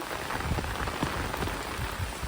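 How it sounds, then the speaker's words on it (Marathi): Heavy rain falls steadily, a dense continuous hiss and patter of drops striking surfaces close by, with no voices over it. "बघू शकता तुम्ही किती पाऊस आहे"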